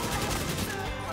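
Rapid automatic gunfire in a shooter video game, a dense continuous burst of shots, loud and close, filling the moment without speech.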